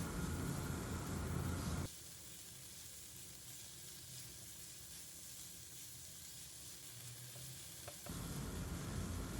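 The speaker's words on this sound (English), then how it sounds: "on medium to high flame we will fry the prawns well for 1 to 2 minutes" Marinated prawns fry in a pan over a medium-high flame, a steady broadband sizzle running throughout, louder at the start and end with a quieter, even stretch in the middle.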